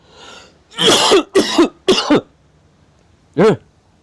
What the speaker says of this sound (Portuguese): Eu engasgar e começar a tossir igual louco.